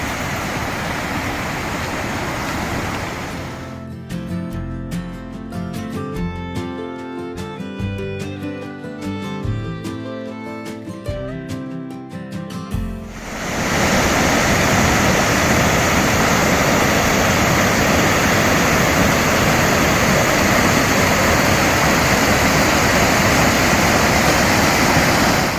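A small stream along the Appalachian Trail near the Connecticut line rushes loudly and steadily, with a stretch of tonal, music-like sound interrupting the flow partway through.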